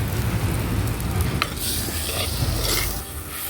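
Onions, tomatoes and chicken sauté in a pan over a wood-fired stove, giving a steady close sizzle with faint stirring scrapes and no talk.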